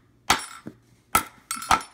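A 1-2 pound hammer strikes sheet metal in four sharp ringing blows, two close together near the end, each decaying quickly into quiet.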